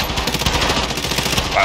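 Rapid automatic gunfire rattles in Call of Duty Warzone, a loud, dense burst of closely spaced shots running through the whole moment, with a voice briefly audible.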